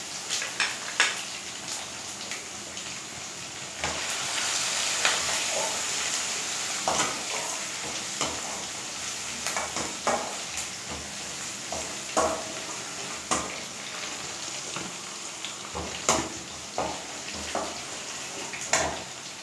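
Crushed garlic fries in a pan for a Nellai-style spicy potato curry, a steady broadband sizzle broken by frequent scraping clicks as it is stirred, close and moderately loud, with no talk.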